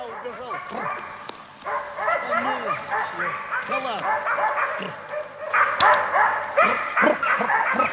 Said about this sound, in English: The dogs follow on the forest floor.